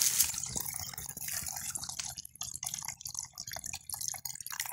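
Natural spring water trickles out of a wall in a soft, quiet stream of close, irregular drips and splashes that continue throughout with no one talking.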